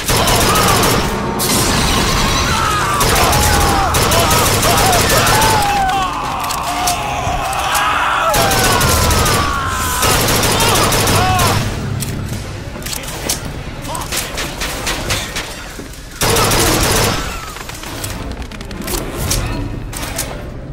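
Gunfire in the video game BioShock Infinite, dense rapid shots and booms piling into a loud, continuous firefight, with game voices and shouting mixed in throughout.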